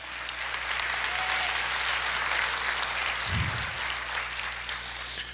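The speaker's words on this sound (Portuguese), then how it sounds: "Aplauda o Senhor, diga aleluia." A church congregation applauds during a Portuguese-language sermon, a steady, dense wash of many hands clapping that holds evenly throughout with no voices on top.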